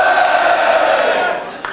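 A crowd of students at a school orientation event shouting and cheering together, a loud sustained mass of voices that fades slightly toward the end.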